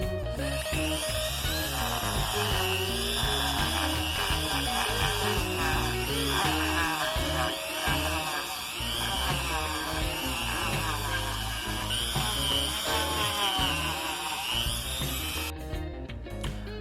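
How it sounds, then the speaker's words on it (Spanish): A Dremel rotary tool with a sanding attachment whines steadily up close, its pitch wavering as it sands a knife made from a table knife, running continuously for the whole stretch. "Yo lo voy a lijar ya con mi Dremel porque tengo un Dremel con lija"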